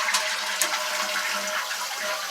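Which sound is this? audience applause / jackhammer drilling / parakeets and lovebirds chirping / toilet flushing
toilet flushing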